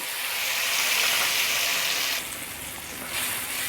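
Tomato puree fries in a pan over high heat with a loud, steady broadband sizzle that dips slightly midway, then swells again.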